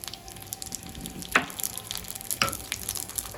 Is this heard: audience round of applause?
no